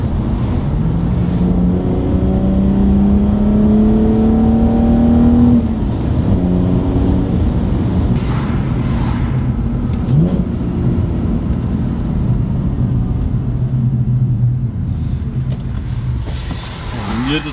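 A BMW 330i's engine revs from inside the cabin, climbing in pitch and loudness over the first few seconds before dropping back to a deep, burbling idle and then revving briefly again, while the occupants chat over it.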